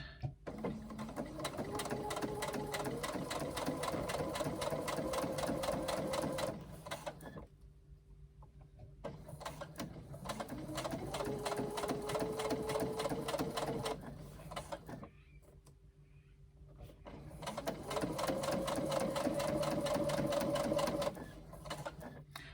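A sewing machine stitches a tote bag seam with a zipper piece face down, running in three separate bursts that each speed up to a steady whir, with short quiet pauses between them.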